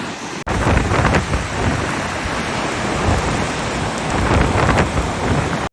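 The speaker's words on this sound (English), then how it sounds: "It's hailing." Hail driven by strong wind pelts the ground and surroundings in a storm in Iceland, a dense, loud, continuous roar of rattling impacts and gusts with no talking.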